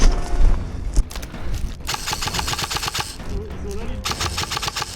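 Airsoft gunfire crackles during a milsim game, bursts of rapid snapping shots near and far, with players talking and shouting over it.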